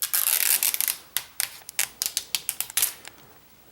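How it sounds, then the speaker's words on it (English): Protective plastic film peeled off a new Samsung Galaxy Tab 3: a long crackling rip, then a run of short, sharp crinkling snaps at a steady pace, close and loud. "let's go ahead and start peeling off this plastic"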